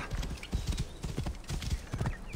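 Horse hooves clip-clop in a quick, steady rhythm while riding along a hillside in Assassin's Creed Origins, the hoofbeats close and clear over a low ambient wash, with no talk.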